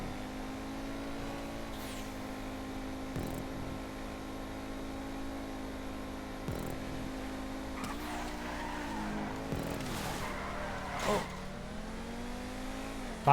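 Race cars in the video game GTA 5 battling for the lead on a racetrack, engines droning steadily with rising revs and brief tire squeals and skids, loud and continuous, with no talking.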